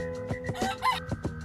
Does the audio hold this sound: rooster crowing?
yes